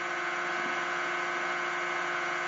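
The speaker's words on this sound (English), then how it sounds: "New motor." A homemade electric motor runs at steady high speed, giving a constant whirring hum with a strong steady tone, close and alone throughout.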